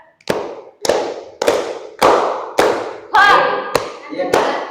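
Children clap a counted rhythm pattern in a classroom concentration exercise, about eight sharp, evenly spaced claps at roughly half-second intervals, close and loud.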